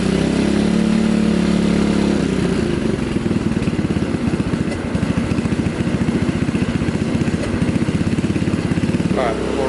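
A 2003 Kawasaki KLX110 dirt bike engine runs in a shop, a steady close mid-pitched idle with a fast putter throughout, rising briefly near the end; a voice talks over it.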